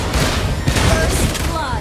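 Granger's crescendo bullet ultimate in the Mobile Legends mobile game, a dense burst of rapid, loud gunfire blasts and booms packed into under two seconds, mixed with game voice effects.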